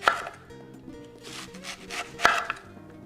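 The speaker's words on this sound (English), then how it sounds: "Just cut 1/8 to 1/4 inch slices of the onion." Knife slicing an onion into 1/8 to 1/4 inch slices on a board, close-up chopping with sharp thuds and wet crunches, with background music underneath.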